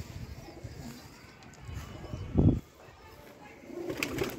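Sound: pigeon cooing

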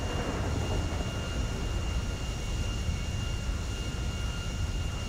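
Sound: airplane engine in video game GTA 5

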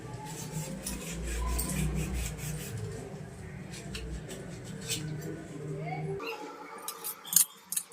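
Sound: scrubbing a dirty spoon

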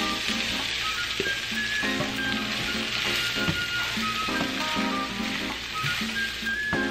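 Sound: ground meat frying in pan with garlic

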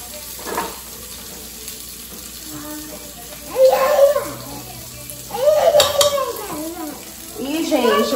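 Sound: garlic sautéing in a pan

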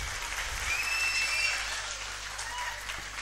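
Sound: audience applause

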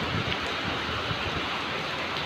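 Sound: rain falling

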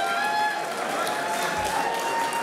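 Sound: audience applause

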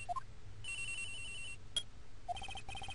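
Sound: cell phone ringing, from the video game Phoenix Wright Ace Attorney

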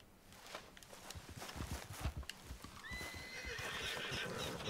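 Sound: horse neighing and hooves clip-clopping in Red Dead Redemption 2 video game

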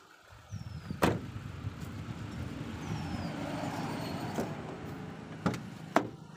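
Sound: 2006 Hyundai Santro car engine running after starting

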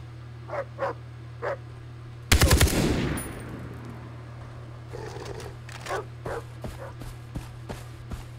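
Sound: dogs barking and gunfire in the video game Far Cry 3

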